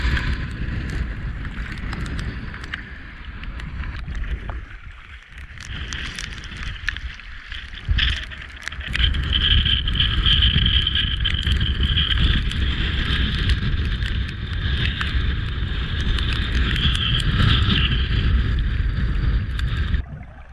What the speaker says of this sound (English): But that wind is getting ridiculous.